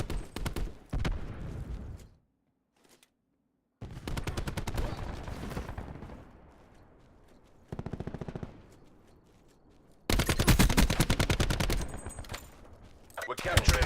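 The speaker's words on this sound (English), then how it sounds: "Cluster grenade going out." Black Ops 4 match with a cluster grenade and bursts of rapid automatic gunfire, loud volleys alternating with short lulls and a brief near-silent gap, game commentary voices between.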